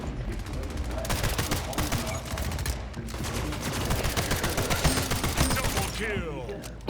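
Pistol and weapon fire in the shooter video game Splitgate, a fast, loud stream of sharp shots with mechanical clicks, near and continuous across the clip.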